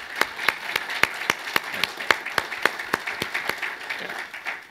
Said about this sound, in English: How about a round of applause for Ted in that video?